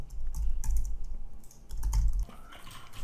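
Typing on a computer keyboard, a quick, close run of light key clicks with a steady low background hum and no talking.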